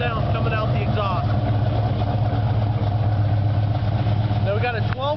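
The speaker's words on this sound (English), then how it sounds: "This is the way 502 horsepower just stands. Sounds coming out the exhaust." A 1970 Chevrolet Chevelle with a 502 cubic inch crate engine idles through its exhaust, a deep, steady, loping rumble up close, with someone talking over it.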